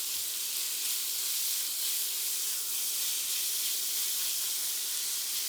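Chicken breast pieces and onion sizzle in a pan over high heat, giving a steady, dense, close frying hiss that never lets up, with no talking.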